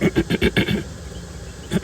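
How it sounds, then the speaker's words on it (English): Bees buzz inside a nuc hive during an inspection, a close, pulsing hum with several louder swells in the first second and another near the end, then a softer steady drone between. "It's full of bees."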